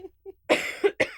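A person coughs three times in quick succession, close and sharp, preceded by two faint soft vocal sounds in an otherwise quiet room.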